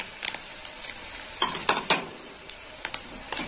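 Ginger garlic paste sizzles in a pan with a bright steady hiss while a utensil scrapes and clinks against the metal several times in quick succession.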